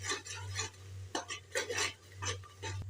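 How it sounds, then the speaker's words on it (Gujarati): Homemade spice masala is stirred into a cooked tomato gravy, where the oil is separating, for a cluster bean and potato curry. A spoon scrapes the pan in several uneven bursts over a constant low hum. "આપણે બનાવેલો મસાલો એડ કરી દેશું તેમાં અને સારી રીતે મિક્સ કરી દેશું"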